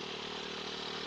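A classic Honda C70 motorcycle engine labors steadily uphill, a continuous mid-pitched drone with a buzzing harmonic hum and no breaks, close and fairly loud throughout.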